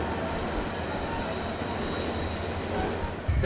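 Steady, dense rumble and rail noise of the Rocky Mountaineer train running on rails between Kamloops and Vancouver, continuous and close, with a faint high wheel squeal rising midway.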